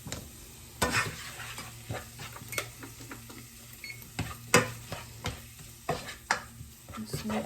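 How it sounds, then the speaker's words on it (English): Tomato paste sizzling in a pot with onion and garlic, a low steady fry under repeated scraping strokes of a spoon, close and moderately loud with a faint background hum. "And I'm going to add in our tomato paste. This we're going to cook for 1 to 2 minutes."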